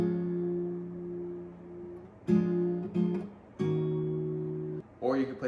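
Guitar strings plucked one at a time, each note ringing out and sustaining, with a few fresh plucks and a brief strum-like burst near the end, close and alone.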